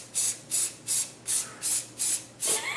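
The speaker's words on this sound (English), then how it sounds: "Spray, spray, spray." A can of Halloween spray-on temporary hair color sprays in seven short, even hissing bursts, close and evenly spaced with brief gaps between them.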